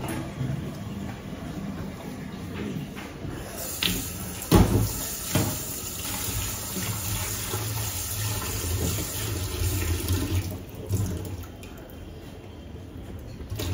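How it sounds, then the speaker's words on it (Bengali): Potatoes and beans washed under running kitchen water, a steady broadband wash with scattered splashes, drips and handling knocks throughout, no talking. "চলো সবজিগুলো সব ধুয়ে কাটতে শুরু করি"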